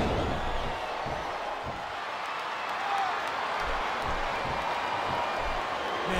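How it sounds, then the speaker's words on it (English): An arena crowd in the wrestling video game Smackdown vs Raw 2007 roars steadily throughout, a dense, continuous wash of many voices with no clear breaks. "listen to that chant"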